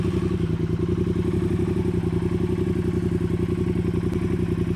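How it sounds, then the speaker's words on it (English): A 2024 Triumph Bonneville T120 Black parallel-twin motorcycle runs close by with a steady, even idle, its low throbbing exhaust pulses and light mechanical clatter continuing unbroken throughout. "And now we'll start it up."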